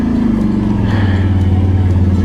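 A car engine hums loudly and steadily in low gear, with the pitch dipping slightly partway through, heard close up from inside the vehicle with no talking.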